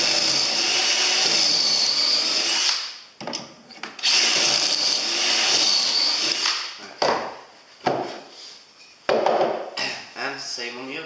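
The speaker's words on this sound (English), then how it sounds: "using the high setting on my drill, I can then start drilling the pocket holes" A power drill on its high setting bores pocket holes into timber in loud, whining bursts. A long first run is followed by several shorter bursts broken by pauses, and no speech is heard.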